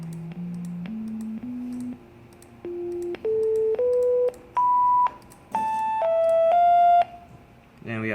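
Synthesizer tones set up like a keyboard step one by one up through all twelve notes and into higher octaves, then drop lower, each held briefly in a clean, even sequence with short gaps.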